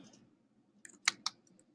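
A few quick, faint keystrokes tap on a computer keyboard, clustered in a brief burst in a quiet room.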